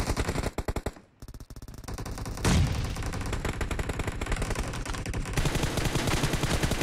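Automatic gunfire in the mobile shooter BGMI, loud rapid bursts of shots with a brief lull, then a heavy blast and sustained rattling fire to the end.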